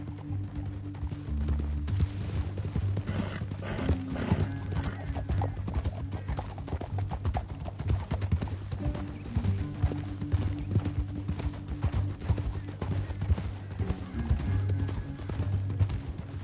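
Horse hooves clip-clop steadily through a Western video game, a continuous rhythmic trot with an occasional whinny, moderately loud and steady throughout with no talk.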